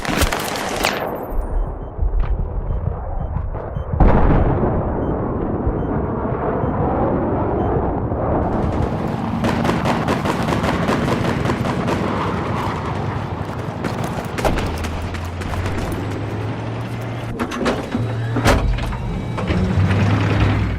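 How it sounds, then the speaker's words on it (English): Tank cannon blasts and explosions in Battlefield 3 on the Caspian Border map, a sudden heavy boom followed by dense rattling gunfire and rumbling detonations, loud and continuous with no talking. "Watch here when this other tank shoots into the sky."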